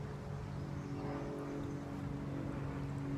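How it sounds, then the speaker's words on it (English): A low, steady drone of an airplane passing overhead rumbles continuously in the background, distant and fairly quiet, with no talking over it. "This has to be like the 15th airplane in 15 minutes."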